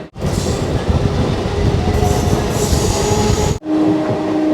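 A train rolls past at close range on the new rail line toward Mayapur, a loud, steady rumble with wheel squeal that drops away abruptly near the end, leaving quieter ambience.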